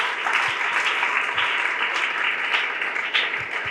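An audience at a Sukkot church gathering claps and applauds steadily throughout, a dense, even wash of hands with no voices over it.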